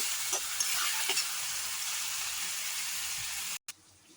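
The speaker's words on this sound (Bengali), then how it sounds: "টমেটো বাটাটাকেও আমি দিয়ে দেবো। এরপরে আমি নাড়তে থাকবো, একটু ভাজা ভাজা করে নেবো" Ground tomato paste sizzles and fries in a pan for ghugni, a steady close hiss with light stirring scrapes before it cuts off abruptly near the end.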